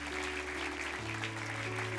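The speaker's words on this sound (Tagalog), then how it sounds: "Sige, the best na palakpak kay Lord." Church congregation clapping hands in praise to the Lord during worship, steady dense applause under sustained organ or keyboard tones, with a faint voice in the mix.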